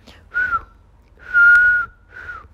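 A person whistles three clear tones: a short one, a longer sustained middle note, then a brief final note, close and loud with quiet gaps between.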